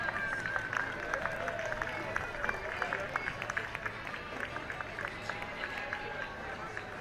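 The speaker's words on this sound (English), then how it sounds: "Give a big round of applause." At a St Patrick's Day parade in Sligo, an outdoor crowd claps in a steady, moderately distant round of applause, with some talk and street noise under it.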